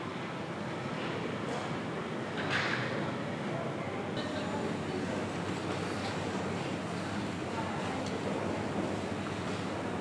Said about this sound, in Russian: Там море.